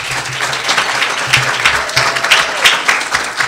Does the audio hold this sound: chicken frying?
no